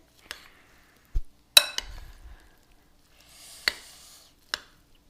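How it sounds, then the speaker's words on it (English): Broccoli salad getting a quick stir in a bowl, with sparse, separate clacks and scrapes of a utensil and brief quiet gaps between them. "Give it a quick stir so it's all mixed together."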